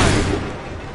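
A musket volley in Assassin's Creed III bursts out as one loud, close boom that rolls off into a rumbling decay within a second.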